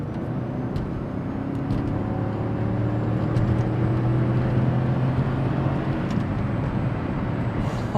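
An underpowered 1990s Ford car engine drones steadily while driving, its low rumble rising and falling in pitch with road noise underneath.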